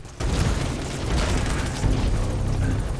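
A grenade bursts in Metal Gear Solid V: The Phantom Pain, a sudden heavy boom that opens sharply and then rumbles on with a low, rolling tail and mechanical rattling.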